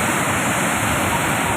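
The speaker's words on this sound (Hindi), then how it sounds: "आवाज़ यहाँ पर आ रही है पानी की।" Water roars steadily at Bhim Kund waterfall in Mayurbhanj, Odisha, a loud, unbroken broadband rush with no pauses or voices.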